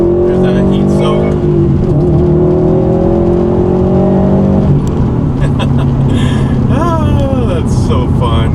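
A Subaru STI engine pulls hard through second gear, its rising whine climbing steadily and loud, then the pitch drops and climbs again after a shift, with a voice speaking over the engine.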